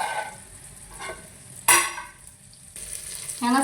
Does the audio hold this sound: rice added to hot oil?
yes